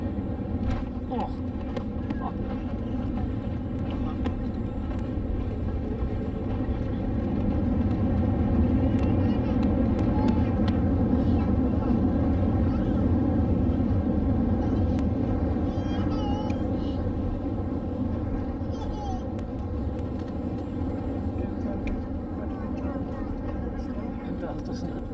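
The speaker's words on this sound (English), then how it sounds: "It's a rough hole landing." A China Airlines plane lands at Taipei, a steady loud cabin rumble and engine roar heard from inside, swelling midway through, with people talking over it.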